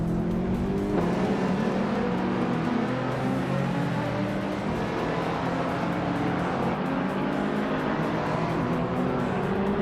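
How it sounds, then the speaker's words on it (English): Racing cars roaring continuously in a racing video game, a dense steady engine drone with shifting pitch as cars run close together, loud and with no talking. "Maya just overtook Blaming Buddha and is now in 5th place"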